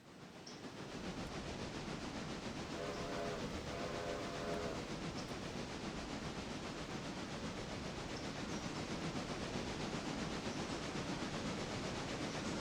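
A train in the Railroader video game rumbles along steadily at low volume, with a continuous rolling noise and a brief faint tonal sound early on, and no voices.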